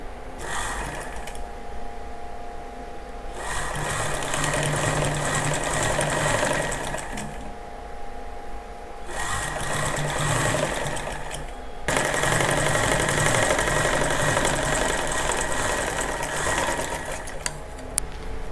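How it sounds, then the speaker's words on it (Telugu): A sewing machine stitches an elbow-length sleeve, running loud and close in three long bursts separated by short pauses, with no talking. "ఇలా ఈ విధంగా పెట్టుకొని స్టిచ్చింగ్ చేసుకోవాలి"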